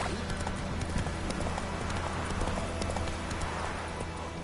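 Hooves of a horse in The Witcher video game clip-clop in a steady trotting rhythm, close and loud, layered over dense game ambience.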